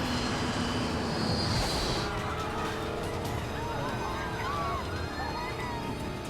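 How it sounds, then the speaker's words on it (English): A loud, roaring airplane engine drones continuously with a rising whine early on, surrounded by rushing noise and no voices. "The plane is losing altitude and falling out of the sky."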